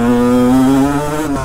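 A Honda 125 CR two-stroke motocross motorcycle engine, a loud, close, sustained buzzing drone that holds a steady pitch and then drops briefly at the end.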